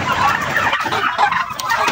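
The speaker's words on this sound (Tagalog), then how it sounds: "Ito yung ating ibang pabo na nandito." Farm turkeys call in a dense, noisy chorus of overlapping gobbles and clucks, loud and close, with no speech.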